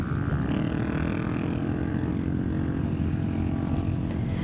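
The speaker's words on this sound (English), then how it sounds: "now we hear the drone from the dune buggies" Dune buggies on sand dunes drone steadily in a continuous low engine rumble, unbroken and fairly loud throughout with no voices.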